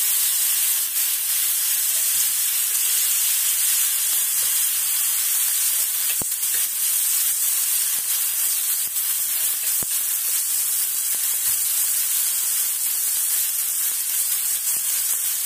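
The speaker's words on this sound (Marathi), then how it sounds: "त्यात आता 4 ते 5 चमचे आपल्याला तेल घालायचे आहे।" Oil heats in a kadhai with chopped onion and tomato for egg bhurji, producing a constant high, hissing sizzle with a couple of sharp clicks partway through.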